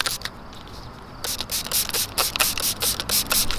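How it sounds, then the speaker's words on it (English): Short bursts of hissing car cleaner and ceramic coating spray from a spray bottle repeat in a quick, uneven rhythm after a brief pause, loud and close. "just make sure that it's open and just spray it down"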